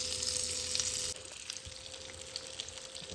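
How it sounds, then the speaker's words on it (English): Butter browns in a pan at a breakfast stove, giving a soft, steady sizzle and crackle that quietens a little after the first second. "Browning the butter gives it so much delicious flavor"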